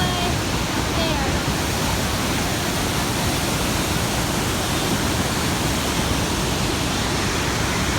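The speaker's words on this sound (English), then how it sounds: "There's the waterfall." A waterfall pours in a constant loud broadband rush, steady and unbroken throughout, close by with no other distinct sounds.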